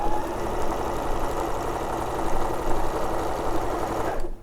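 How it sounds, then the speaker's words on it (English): Domestic sewing machine running steadily while stitching a teddy bear pattern, a continuous close motor whir with rapid needle clatter that stops abruptly near the end. "So put it down and then just carry on sewing down."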